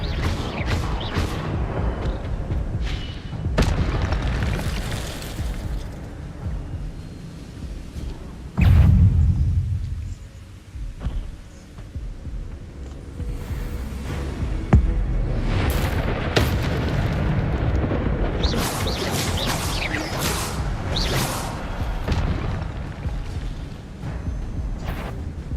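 Expelliarmus and other spell blasts thunder through a Hogwarts Legacy duel, with dense booming bursts and rumbling impacts running continuously over a loud, layered game soundscape.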